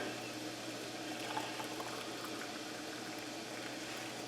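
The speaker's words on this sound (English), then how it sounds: "Our hot water." Hot water poured into pint and quart canning jars packed with rutabaga, a steady, close hiss of filling liquid that runs evenly throughout with no talking.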